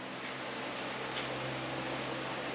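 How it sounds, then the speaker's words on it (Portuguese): A nearby electric fan runs with a steady, unbroken broadband whoosh and a faint low hum, constant and fairly close, with no voices. "Desculpa pelo barulho do ventilador aqui"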